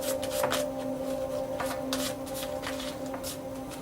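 A deck of handmade tarot cards being shuffled, close and soft, with quick repeated riffling and flicking bursts over a faint steady hum and no talking.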